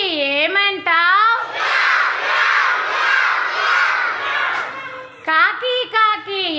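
A classroom group of children calls out together in a loud, sustained chorus imitating a cat's meow, framed by an adult's questioning voice at the start and end.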